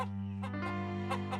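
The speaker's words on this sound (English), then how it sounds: "Caillou liked watching the chickens." Cartoon chickens cluck on a farm in a short burst of repeated sharp clucks over a steady low hum, close and clear.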